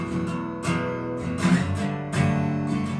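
Acoustic guitar strummed in a down-up pattern on chords from a song, with several strong accented strokes among lighter ones, close and alone without talk.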